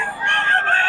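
Chickens for sale at a busy market in Bocaue, roosters crowing and clucking near and fairly loud in one continuous burst with no talk over it.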